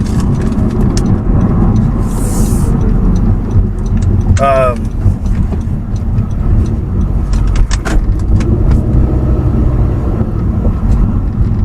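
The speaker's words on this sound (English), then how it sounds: "That car that just turned out in front of me." A car drives along a road, heard from inside as a steady, loud low rumble of engine and tyre noise throughout, with a brief voice and a few faint clicks over it.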